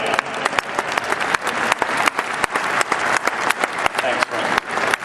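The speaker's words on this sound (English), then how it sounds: "can we give all the veterans in the audience a round of applause?" Audience applause for veterans at a pest control trade expo on Veterans Day, a thick wash of clapping with sharp individual claps standing out rhythmically, close and loud, with some crowd voices mixed in.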